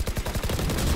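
Rapid bursts of automatic gunfire from the Valorant video game on the Lotus map, loud and close, firing in a quick rhythmic stream for about a second with no talk over it.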